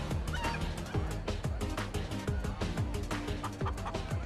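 A chicken in the Minecraft Story Mode video game gives rapid, repeated clucks in a steady rhythm, mixed with other bright game sounds and no talking.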